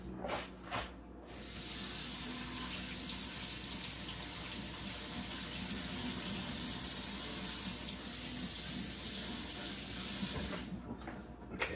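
Water runs steadily from a kitchen tap while something is washed during cooking, a continuous hissing flow that starts and stops near the ends.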